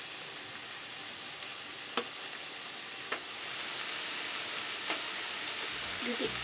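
An omelette fries in a pan with a steady, loud sizzle throughout, while a few sharp scraping taps of stirring cut through the hiss.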